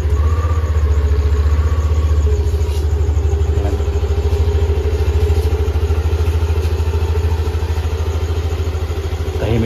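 A stock Yamaha Aerox scooter engine runs steadily at a low, even hum with a faint mechanical clatter, holding a smooth, unchanging pitch close by throughout.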